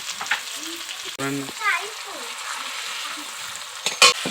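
Onions and tomatoes frying with salt in a pan, a steady soft sizzle with brief stirring scrapes and a couple of sharp clinks, while someone talks over it.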